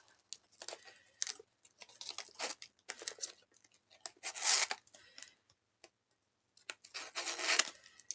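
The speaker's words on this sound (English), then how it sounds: "when you do curling ribbon, you just go like so" Curling ribbon being pulled along a scissor blade for an Easter carrot treat bag craft, several short close scraping, crinkling strokes with brief pauses between them.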